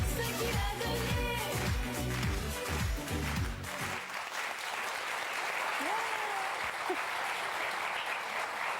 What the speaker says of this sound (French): Les gens ont applaudi, Michel.